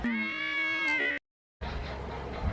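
A spunky kitty cat meows indoors in a loud, drawn-out call, then the sound cuts to brief silence before a rustling, noisy stretch follows.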